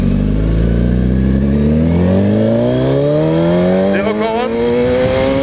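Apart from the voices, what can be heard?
motorcycle accelerating hard toward the red line on takeoff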